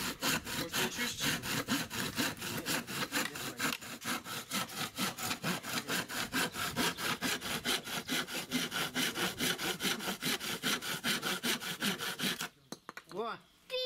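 Hand saw cutting through wood with steady, rapid back-and-forth strokes, loud and close for about twelve seconds before stopping, followed by brief rustling.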